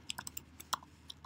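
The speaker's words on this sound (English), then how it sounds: "I'm just gonna type in" Faint, sparse keystrokes on a computer keyboard, a handful of light clicks tapped out unevenly in a quiet room.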